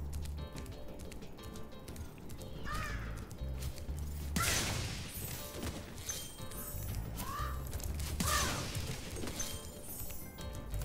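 Crows caw in Spyro Reignited Trilogy amid busy game effects, several harsh calls rising over clattering crashes and music, moderately loud.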